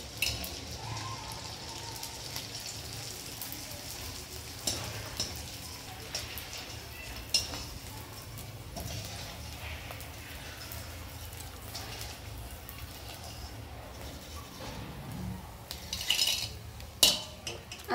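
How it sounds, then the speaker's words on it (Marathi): Small pieces of edible gum (dink) frying in hot oil in a home kitchen, a steady soft sizzle with occasional clinks of a utensil against the pan, louder crackling near the end. "आपलं तेल गरम झालेलं आहे. आता आपण थोडा थोडा डिंक याच्यात टाकून तळून घेणार आहोत."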